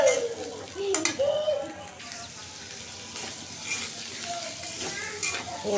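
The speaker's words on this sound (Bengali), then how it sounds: "মেয়ের তরকারিটা কষাই নিতেছি একটু" Curry being sautéed in a pan, with a soft steady sizzle under repeated scraping and stirring strokes, plus a few brief clinks; some faint voice-like sounds come through in the background.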